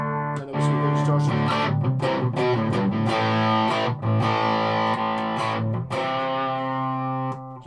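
An electric guitar plays through the drive channel of a small tube amp, thick and distorted, strummed chords ringing loudly with short breaks between them, no voices.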